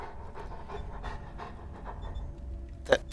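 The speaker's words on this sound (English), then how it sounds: "That panting dog is starting to weird me out" A dog in the video game Wasteland 2 pants in quick, steady breaths, faint and close, with a short sharp click near the end.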